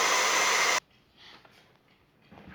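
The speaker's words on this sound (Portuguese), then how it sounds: "esse que é o barulho do secador" A hair dryer runs loud and steady with a broad airy whoosh, then switches off abruptly, leaving faint room noise.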